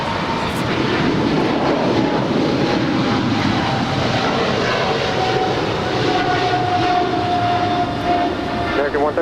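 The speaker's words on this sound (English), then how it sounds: "That was American 136 Heavy departing to London Heathrow. It's a 6-year-old 777-300ER." An American Airlines Boeing 777-300ER heavy jet departs LAX, its engines a broad, steady roar heard from a distance, with a rising tonal whine and no break in the noise.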